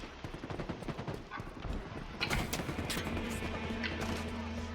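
A submachine gun in Halo Infinite fires rapid, repeated bursts of crackling shots, busiest in the first half, followed by a denser mix of game noise.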